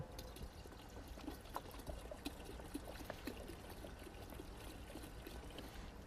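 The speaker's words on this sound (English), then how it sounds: "I'm just going to pour some in for sake of example." Floor cleaning concentrate pours steadily into a container in a gym maintenance closet, a faint, continuous liquid trickle with no pauses.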